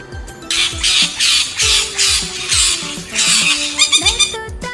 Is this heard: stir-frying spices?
no